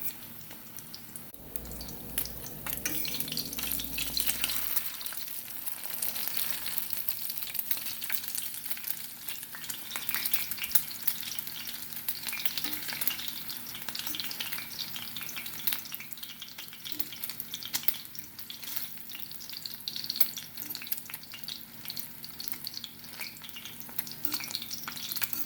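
A Jamaican sardine omelette frying in a pan gives a soft, steady sizzle with fine crackles and occasional light spatula touches as it is folded closed, heard alone without talk.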